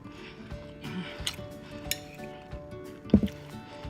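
Metal fork scraping and clinking against a plate while eating rice with curry chicken, a few scattered light taps and one sharper clatter near the end, close up over quiet room tone.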